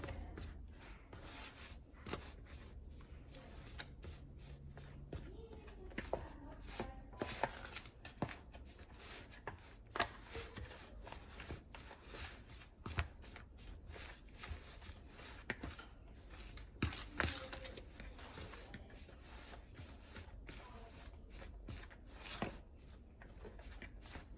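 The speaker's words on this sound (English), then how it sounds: "you're going to mix it up until it's got like pea-size crumbles mixed in with the flour" Butter is worked into flour for scratch biscuits, giving faint soft rubbing and scraping sounds with small irregular taps, quiet and close.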